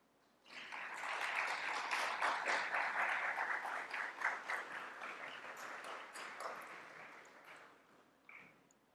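A lecture audience applauds steadily as guests are invited on stage, a dense wash of clapping that swells quickly, holds for several seconds, then tapers off with a few scattered claps near the end.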